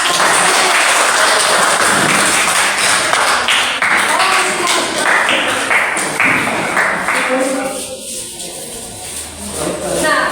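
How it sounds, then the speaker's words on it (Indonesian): Audience clapping at the close of a group discussion in a classroom teaching-practice session, a dense, steady burst of many hands that continues throughout and eases slightly near the end. "berikan aplaus untuk"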